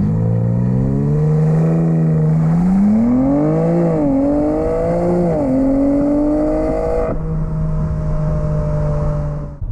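A 2022 BMW M4 Competition Convertible launches hard under launch control, its engine note climbing loudly through rising pitch sweeps with quick gear-change dips before settling into a steady high drone, close and continuous throughout.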